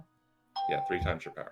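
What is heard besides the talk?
Facebook notification sound on a phone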